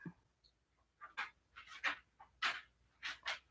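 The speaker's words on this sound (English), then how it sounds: "And of course, my dog wants in the house." Dog panting and whining to come into the house, a quiet series of short breathy pants and soft whimpers at close range.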